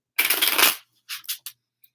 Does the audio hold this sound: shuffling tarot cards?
yes